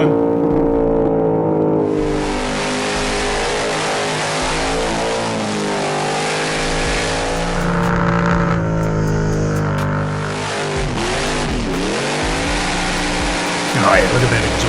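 Car engine revving hard during a burnout with glowing headers and flames pouring from the exhaust, a loud sustained roar with rising and falling revs, while people shout and talk over it.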